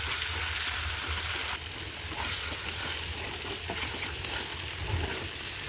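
Curry sautés in a pan with a constant soft sizzle, joined partway by scraping stirring noises, heard up close with no one talking.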